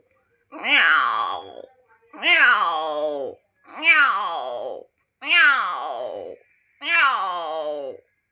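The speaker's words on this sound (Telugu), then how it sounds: "పిల్లి అరుపురండి" Five long, drawn-out meows in a row, each rising then falling in pitch, loud and close with short pauses between.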